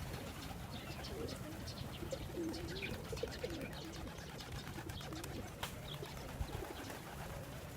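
Pigeons feed on scattered grain, soft cooing and wing flutters over a busy background murmur with faint pecking, moderately near.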